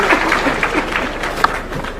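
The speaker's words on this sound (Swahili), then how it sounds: "Tumpigie makofi Mheshimiwa" An audience at a Youth International Day event applauds the president, with loud, steady clapping that fills the room for about two seconds.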